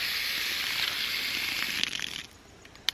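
Water sprays from an expanding garden hose nozzle set to soaker, a steady close hiss that thins out and drops away near the end, followed by a single sharp click.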